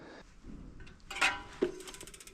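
A ratchet clicks while tightening the brake caliper bolts on an inexpensive bicycle during a tune-up. A few quiet mechanical clicks and one sharper ratcheting burst, close by and alone.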